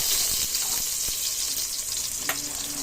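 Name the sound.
garlic frying in a hot pot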